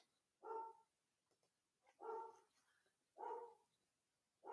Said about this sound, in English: You have to excuse the dogs barking in the background.